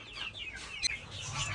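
Desi chickens and chicks cluck and chirp in a pen, with a cluster of short, bright calls that rise and fall close by. One sharper cheep stands out midway.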